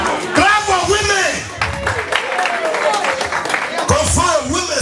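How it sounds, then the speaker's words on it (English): A crowd claps at a launching ceremony, with loud shouts and cheering voices mixed in, sustained and close throughout. "Clap for women."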